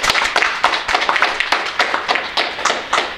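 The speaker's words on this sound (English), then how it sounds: "I'd like to give a round of applause for Brendan." A round of applause at a club meeting: brisk, fairly close clapping from a modest group, with individual hand claps distinct within a steady, lively patter throughout.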